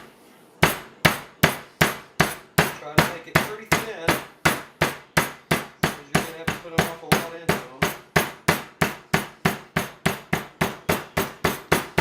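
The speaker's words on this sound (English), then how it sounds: "you take a tenderizer and then you start flattening it out." A meat tenderizer pounds a tenderloin flat, sharp loud whacks landing in a steady, rapid rhythm of around thirty blows, with a voice speaking briefly between them.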